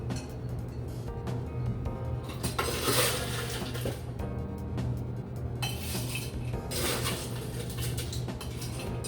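A Frisco Sour cocktail stirred with ice, bright clinking and rattling of a spoon and ice against a glass or shaker, steady and close.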